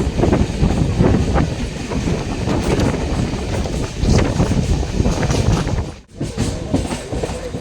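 Panskura-Digha local train running through a station with continuous loud rumble and rhythmic clatter of wheels, close by, with a brief dip near the end.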